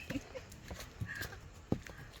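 A horse walks along a trail at Eden Nature Park, its hooves giving a few faint, irregular clip-clops under background murmur, with one sharper knock near the end.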